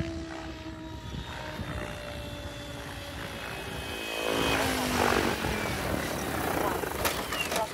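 An OMPHOBBY M7 RC helicopter flies at 2050 rpm with a continuous whirring rotor and motor whine, its pitch sweeping as it maneuvers nearby and swelling louder midway, while people talk faintly in the background.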